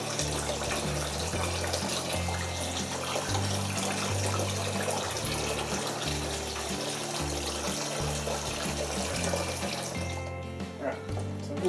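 Hot water runs steadily from a tap while a Zanussi washing machine detergent drawer is cleaned, a continuous close splashing stream that carries on for about ten seconds before easing off.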